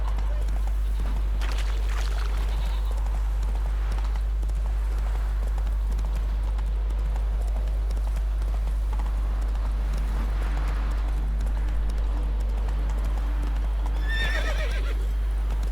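Roach, a horse in the video game The Witcher 3, galloping with continuous hoof clatter over a heavy low rumble, a brief whinny near the end.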